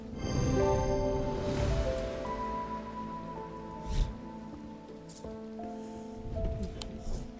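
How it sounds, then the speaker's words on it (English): Rain falling in a video game, a soft steady patter and hiss that holds for the whole stretch, with a few louder drips and splashes over a low musical hum and no talk. "Rain again! Soaked to the bone before I'm halfway through my rounds."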